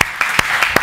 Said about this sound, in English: Yes, clap your hands to the Lord.